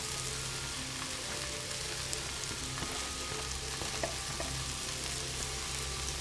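Onions and pork sizzle steadily on a Korean barbecue grill, a dense, continuous frying hiss close by and alone, with a few faint clicks in the background.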